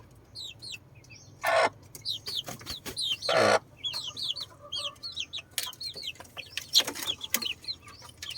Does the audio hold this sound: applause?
no